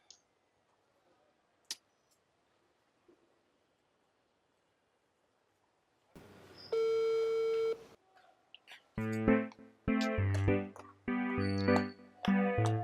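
After a quiet opening with a few clicks, a telephone line sounds a long steady tone followed by a run of repeated on-off busy-signal beeps from an unanswered call.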